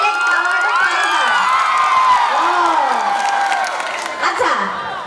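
A crowd shouts, cheers and whoops with scattered clapping at a live stage show, loud and continuous, with children's voices rising over the din.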